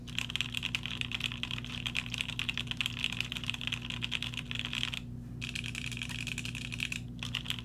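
Steady, rapid keystrokes clack on a Quarkeys Z67 mechanical keyboard with a carbon fibre plate and JWK Alpaca switches, crisp, even rhythm, close up and alone, with two very brief pauses.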